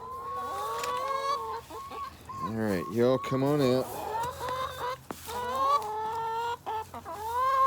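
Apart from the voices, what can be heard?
chickens clucking: Dominiques, Barred Rock, Cinnamon Queens, Rhode Island Reds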